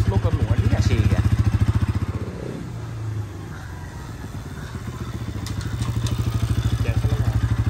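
A motorcycle idles and revs nearby with a loud, rapid engine putter, dips briefly as it moves off, then returns with a steady throbbing rumble.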